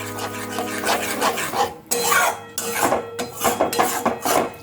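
Nolen gur sandesh mixture is stirred and scraped in a pan with steady, rasping strokes that rub against the metal bottom in a repeating rhythm, close and fairly loud.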